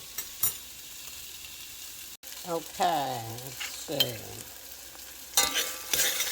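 Chicken sizzles steadily in a hot pan while a utensil scrapes and stirs; a person briefly speaks over the frying.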